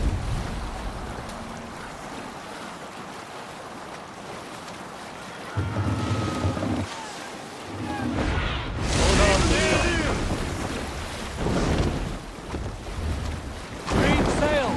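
A Viking longship sails in Assassin's Creed Valhalla, with rushing water, wind buffeting and crashing surf building in loud waves over an ambient bed, with bursts of splashing spray.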